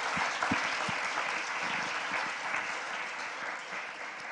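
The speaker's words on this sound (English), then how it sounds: "can you please take a huge round of applause for what you've contributed?" A conference audience at a certification review launch gives a round of applause, a dense continuous patter of many hands with a few sharper close claps early on, tapering slightly toward the end.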